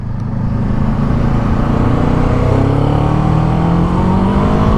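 A Kawasaki Ninja 7 Hybrid motorcycle accelerates hard under electric boost, its engine note climbing steadily, loud and close, with rushing wind behind it and no talking.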